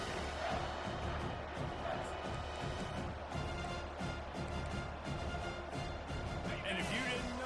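Stadium crowd in a college football video game, TCU against Ole Miss on a big third down: a steady, dense roar of cheering that holds throughout beneath a play-by-play commentator talking.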